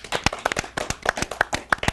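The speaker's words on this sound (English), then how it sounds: "Big round of applause to her." Sparse clapping from a small audience at a television talk show, a handful of separate sharp claps in an uneven rhythm over two seconds, close and crisp rather than a full ovation.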